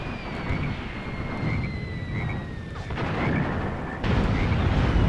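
RPG fire from anti-tank infantry in Graviteam Tactics, a 1980 South African battle, sounds as a continuous, dense rumble of distant booms and blasts, with a thin whine above it and a louder surge near the end.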